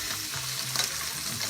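Fish fries in a pan with a steady, close hiss of sizzling oil, broken by soft stirring and shifting sounds as the fish is moved.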